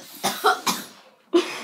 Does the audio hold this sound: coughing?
yes